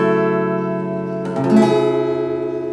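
An acoustic guitar rings out with sustained, steady tones, and a brief strummed burst lands midway before the notes continue to sustain near and clear.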